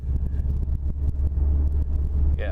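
Subaru WRX engine idling with a steady, fairly quiet low rumble throughout, a few faint ticks on top and a brief higher whine near the end.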